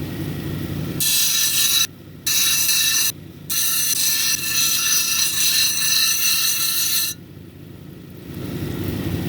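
A Mexican red lace agate cabochon being ground and domed on a lapidary wheel produces a loud, steady rasping whine that runs in three stretches broken by two short pauses, then cuts off into a low hum.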